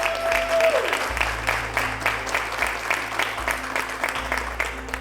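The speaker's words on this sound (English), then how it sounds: "Very worthy of a round of applause for that." Audience at a business awards presentation applauding steadily for about five seconds, a dense, fairly loud wash of clapping with a faint low hum underneath and no voices.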